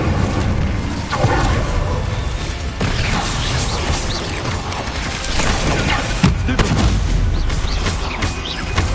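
Incendio fire spell cast in the video game Hogwarts Legacy, a loud, dense burst of crackling, booming combat effects that roars steadily throughout with sharp impacts layered over a rumbling backdrop.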